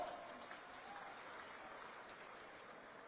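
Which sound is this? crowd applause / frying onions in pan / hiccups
crowd applause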